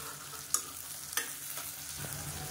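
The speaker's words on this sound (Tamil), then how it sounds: "வெங்காயம் நல்லா வதங்கிட்டு இருக்கு." Small shallots, halved and salted, frying and sizzling steadily in a pan, with a couple of sharp clacks from a spoon stirring against the metal, heard close and alone.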